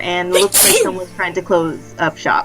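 A person sneezes once, loudly, near the start during a tabletop Dungeons & Dragons game session, with someone talking before and after it.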